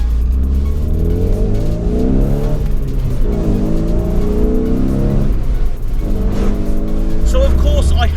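Vauxhall Astra GSI with the Z18XE 1.8 litre 16 valve engine revving and pulling through the gears, a loud close engine note rising and falling in sweeps with road noise underneath.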